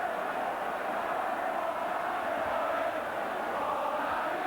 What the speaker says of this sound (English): his name echoing around the crowd at that end of the stadium